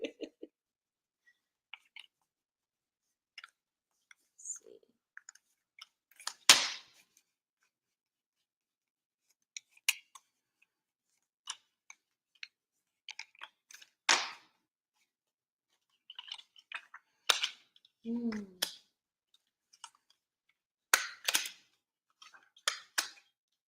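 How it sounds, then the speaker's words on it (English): Playing cards being shuffled by hand during a tarot reading, heard as scattered short riffling and snapping bursts at close range with quiet gaps between them, no talking. "I know I'm shuffling a lot"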